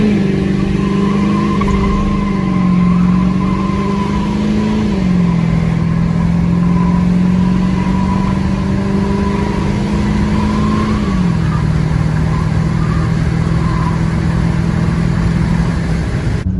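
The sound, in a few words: L5P Duramax diesel truck engine at full throttle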